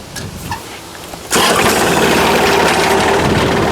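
A quiet rattle, then an engine abruptly catches and roars into a loud, steady running idle that continues to the end.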